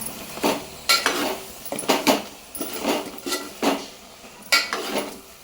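A metal spoon stirs chili powder into a crab curry in a pot, scraping and clinking against the metal in repeated close strokes roughly every half second, with no talking.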